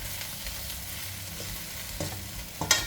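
Thin mee sua noodles with pork, pork sausage, dried shrimp and chopped coriander being stir-fried in a pan, with soft sizzling and a few scraping, clattering stirs near the end.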